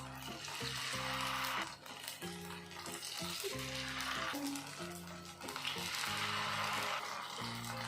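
Raw banana slices sizzle in a little oil in a pan on a tawa, a steady bright frying hiss under background music, with soft clinks as pieces are placed.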